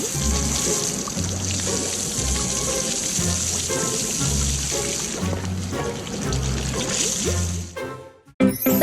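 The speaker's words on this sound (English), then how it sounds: "Water sprays, foam covers the whole vehicle." Water spraying over a garbage truck during a wash inside a garage, heard as a steady, loud hissing spray with pouring and splashing and a rhythmic low pulsing beneath, running continuously before briefly cutting out near the end.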